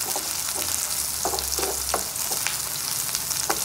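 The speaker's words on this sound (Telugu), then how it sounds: "చూడండి నేనైతే ఫ్రై చేసుకున్నా" Onions frying in oil for gasagasala mutton curry, a continuous close sizzle with a few stirring scrapes and brief bursts of crackle, no voices.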